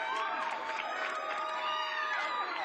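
A crowd at a karate demonstration cheers and shouts loudly and continuously, with high excited voices and whoops layered over a sustained roar from nearby.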